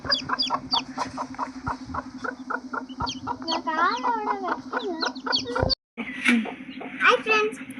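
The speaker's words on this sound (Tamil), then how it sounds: "இது அம்மா, ஒரு குஞ்சு." A mother hen and her chick cluck close by in rapid, repeated calls, with a steady hum underneath, a brief drop to silence, then more sharp chirps.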